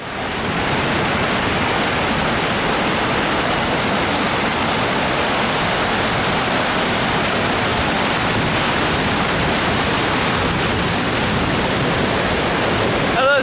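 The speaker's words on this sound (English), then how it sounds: "I hope you can hear me over the roaring waterfall" Gullfoss, a glacial waterfall in Iceland, roars as a loud, dense, unbroken wash of falling water that fills the whole clip with steady close-up rumble and hiss.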